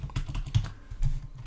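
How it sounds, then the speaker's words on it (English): A brief burst of keys pressed on a computer keyboard while a number is entered, a few quick close clicks in a short uneven cluster. "type in a number"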